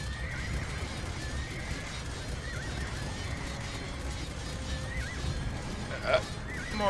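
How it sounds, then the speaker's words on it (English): Horse neighs and hoof sounds come from a medieval-style strategy game during a multiplayer match, with a sharp whinny near the end over a steady game background while players talk. "I have one full group of horses."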